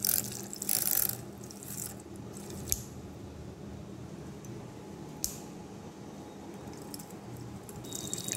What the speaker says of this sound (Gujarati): આ મારું બ્લેન્ડર મેં જાતે તૈયાર કર્યું છે.